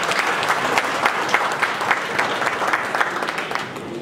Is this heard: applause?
yes